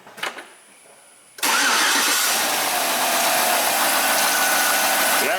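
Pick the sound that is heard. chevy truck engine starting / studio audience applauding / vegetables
chevy truck engine starting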